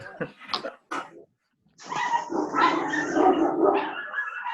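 Several dogs barking and yipping together in an excited burst, loud and close, following a couple of short indistinct sounds and a brief pause.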